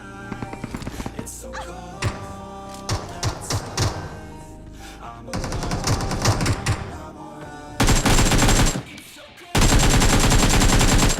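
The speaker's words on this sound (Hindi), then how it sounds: "मैं अपनी गन को रिलोड करता हूँ और भाई साहब उन पे काट देता हूँ अंधाधुन राश।" Gunfire in PUBG Mobile, bursts of rapid automatic shots and single cracks, loud and close, ending in two sustained heavy volleys; faint talk underneath.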